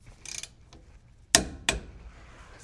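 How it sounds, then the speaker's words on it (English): A torque wrench clicks and ratchets on a Ford 6.7L Powerstroke oil bypass filter mount. Three short, sharp metallic bursts stand out clearly against quiet surroundings, and the last two come close together. "Torque this to 35 foot-pounds."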